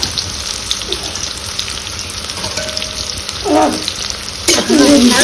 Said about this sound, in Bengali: পেঁয়াজটা এরপর ভাজা হবে হালকা